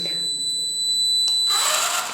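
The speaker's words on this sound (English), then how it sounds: "if it detects any metal, it's giving the beep sound continuously." A metal detector sounds a continuous high-pitched electronic beep as it passes over metal, holding steady for over a second before a rush of broadband noise swells in.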